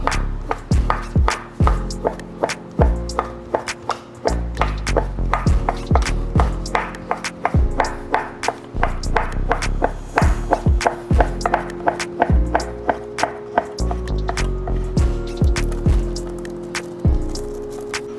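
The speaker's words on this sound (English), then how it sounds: "Cut them in half. Stack them. Cut your strips." A knife slices stacked egg roll wraps into strips on a cutting board, making a long run of crisp, rapid chopping taps that are loud and close and come in quick bursts with brief pauses.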